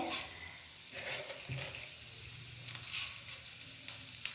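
Chana dal and urad dal frying in a pan give a steady, moderately close sizzle, with a few brief stirring scrapes across the few seconds and no voices.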